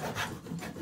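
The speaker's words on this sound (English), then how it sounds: "And we can saw it a bit as well." A saw rasps through a wooden craft piece in one brief, close stroke with a rough, scraping texture.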